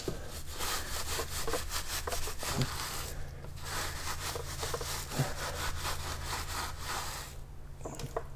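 Brush scrubbing the lower section of a car wheel, a close, rapid back-and-forth rasping in steady strokes, with a brief pause partway through.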